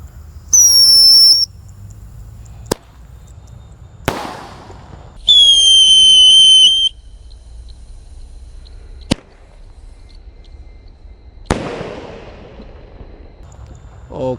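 A whistling firework launches outdoors: shrill whistling rises and falls twice, each burst followed by sharp pops and bangs, with a couple of loud cracks in between.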